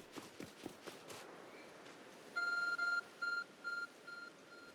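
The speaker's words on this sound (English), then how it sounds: "There's a glowing, beeping object over there." Game-world beeping from a glowing object in Pokémon Legends: Arceus, a run of short, clear electronic tones in uneven bursts, fairly loud over soft ambient game sound after a few footstep-like thuds.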